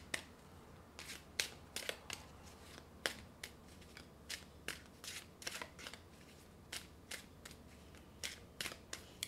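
Playing cards being shuffled by hand, a close run of crisp, snappy flicks and riffles that come in quick irregular bursts over a quiet background, with no voices.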